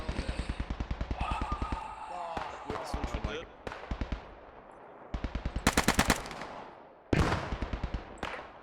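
Rapid automatic gunfire rattles in a multiplayer WWII shooter set at Arnhem bridge, coming as repeated loud bursts with short pauses and sharp single shots, while players talk over the fighting.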